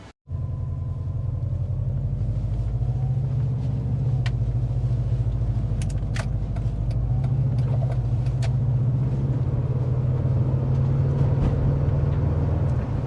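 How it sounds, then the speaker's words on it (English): A Subaru Forester with a newly fitted engine drives along, a steady loud low engine and road rumble throughout with a few faint clicks and knocks from inside the car. "so new engine in there. It seems to be running pretty good."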